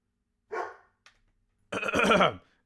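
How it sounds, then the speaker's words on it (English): A dog barks twice, a short bark and then a longer, rougher burst after a pause, fairly close and alone. "Sorry, my dog's barking."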